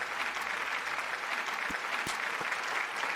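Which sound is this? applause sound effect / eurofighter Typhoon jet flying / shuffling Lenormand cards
applause sound effect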